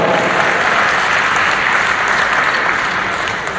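Loud, sustained clapping from an audience at a Barnala police event on an anti-drug campaign, a dense wash of applause that holds steady before easing slightly at the end.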